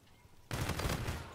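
Call of Duty Infinite Warfare gunfire erupts suddenly after a brief quiet moment, a rapid sustained burst of automatic shots that stays dense and fairly close until the end.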